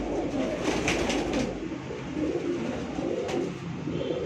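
Pigeons coo from a rooftop loft, soft repeated throaty calls close by, with a brief flutter of wings over a low background hum.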